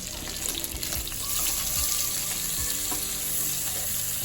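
Chicken fry with tomatoes, onions and salt sizzles in a pan while being stirred, a continuous close crackling hiss with scraping stir sounds and a brief watery trickle, no voices.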